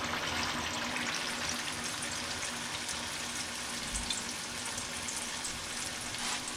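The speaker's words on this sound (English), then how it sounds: "we're going to start frying our plantains" Plantains sizzle in hot oil with a steady, even crackle and hiss, fairly close and without voices.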